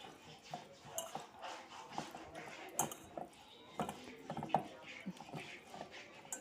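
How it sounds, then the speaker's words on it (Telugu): Fish pieces being mixed by hand with masala in a bowl for fish fry, soft wet patting and squelching with light clinks against the bowl, quiet and close in irregular bursts. "ఆ మసాలా అంతా చేప ముక్కలకి పట్టేలాగా మొత్తం అన్నిటిని అలా కలుపుకోవాలి"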